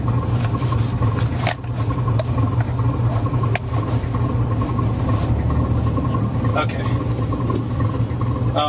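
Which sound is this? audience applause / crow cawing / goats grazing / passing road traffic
passing road traffic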